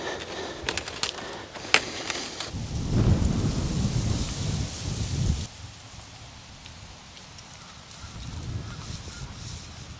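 Thunder rumbles low and long outdoors under an angry sky, with a steady wash of light rain and a few bird calls, starting loud and then settling into softer rainfall.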